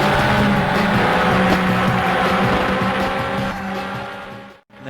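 Engine drone and tire squeal from a pork pie-shaped novelty car racing in the PS1 game Le Mans 24 Hours, steady and loud throughout with skid noise, cutting out briefly near the end.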